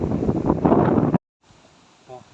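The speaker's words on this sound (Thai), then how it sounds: "ลมแรงมากเลยครับ" Strong wind at a reservoir during bottom fishing roars loudly against the microphone for just over a second, then cuts off abruptly to near silence.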